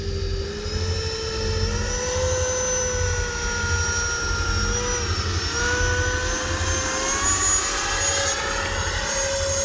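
Freewing F-22 90mm EDF RC jet flying close by, its ducted fan whining steadily at high pitch with rising and falling tones over a continuous loud roar, no voices.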